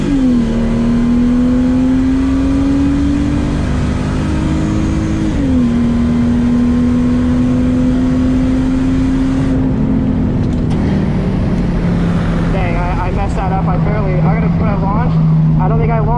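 A Mercedes SLK32 AMG launches at a drag strip with its wheels spinning, its engine revving loud and close in a sustained rising whine that dips and climbs as it accelerates.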